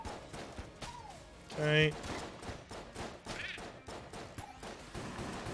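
Rapid bursts of enemy gunfire in the video game Enter the Gungeon, many sharp cracks in quick irregular succession while a person talks over them.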